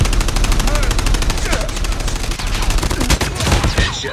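Rapid, dense Call of Duty gunfire with overlapping automatic bursts and shots, loud and nearly continuous throughout, with busy game effects underneath.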